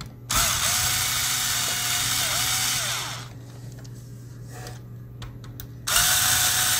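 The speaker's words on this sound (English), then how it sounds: "I'm going to take these three screws out." Screws are removed from a Lenovo G50 laptop with a small power screwdriver: a close, steady whirring run, a quieter pause, then the motor starts again near the end. No one talks.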